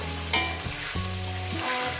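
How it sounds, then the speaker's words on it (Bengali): Young jackfruit pieces frying in oil, a loud steady crackling sizzle with a couple of soft stirring knocks. "আলুর মতন করেই ভেজে নেব"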